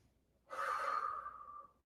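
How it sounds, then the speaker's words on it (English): Deep breath held during a yoga squat in a guided mindful-movement session: one long, close breathy exhale that starts abruptly, holds steady, then trails off slowly, with no talk. "Let's take 3 more breaths."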